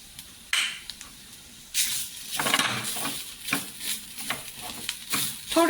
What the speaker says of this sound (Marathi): थोडी परतून घेणार म्हणजे त्याचं एक कच्च्या लसणीचा जो स्वाद असतो तो निघून जावा म्हणून